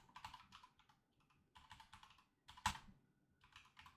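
Keystrokes on a computer keyboard come in quick, close bursts of typing separated by short pauses, with one sharper, louder key strike near the end. No one speaks.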